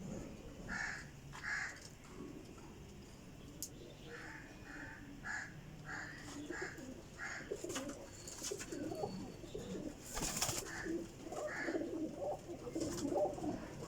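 A flock of about fifteen Pipla-type pigeons with black necks and black tails coos in repeated, overlapping calls throughout, with other bird cries and caws mixed in against a busy outdoor background and no talk.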